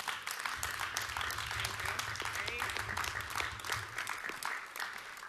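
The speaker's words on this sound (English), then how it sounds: "Can we give these guys a round of applause?" Audience applause at a church service, a dense, fairly faint patter of many hands clapping continuously, with a low hum beneath.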